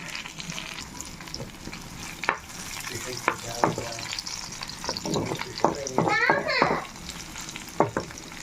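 Beans (bichi) tossed into a hot frying pan for a Bangladeshi curry, giving a steady sizzle under scattered scraping stir strokes and clanks of the spatula, moderately close, with a few brief clattering bursts.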